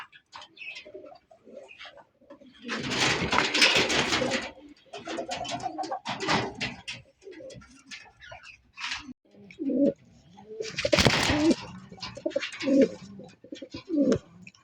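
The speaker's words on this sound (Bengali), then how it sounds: "ব্ল্যাক রেসার কবুতর" Black racer pigeons coo repeatedly at a pigeon farm, soft rhythmic throaty bursts close by, alternating with wing flutters and cage rustling, with no voices.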